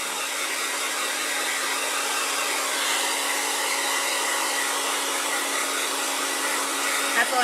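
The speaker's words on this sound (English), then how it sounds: "we're going to go at it with a hairdryer" A hair dryer blows with a steady, loud whooshing roar that holds evenly from start to finish, drying Mod Podge.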